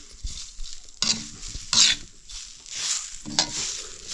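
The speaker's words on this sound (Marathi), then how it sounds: "हे बघा मस्त ना लालसर असे भाजून घेतले" Rice grains stir-roasted in a hot pan for traditional Konkan bore laddu, with scraping, stirring strokes and soft sizzling patter in repeated bursts, close and fairly loud, no talking.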